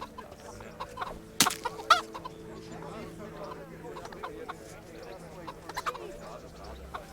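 Chicken in the medieval video game Kingdom Come Deliverance clucks in a few short bursts over a busy outdoor game ambience, with sharp hits and other birdlike chatter scattered through a steady background.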